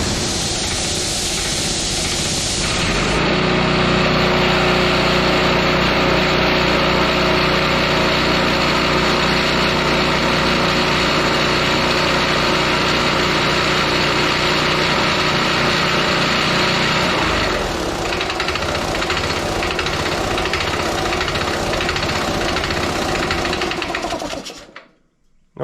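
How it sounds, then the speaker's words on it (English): A John Deere gas-powered air compressor runs with a clanky, rattling engine drone that holds steady and loud throughout, its pitch rising slightly after starting and a lighter mechanical clatter continuing before it cuts out. "I still don't like the noise that's coming from this compressor, but it seems to be functioning correctly."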